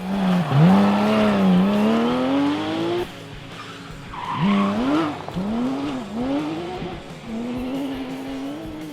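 Rally cars, including a Citroën DS3 R3 and a Porsche 997 GT3, race on a stage, with loud engines revving up and down in rising and falling sweeps and tires skidding between passes.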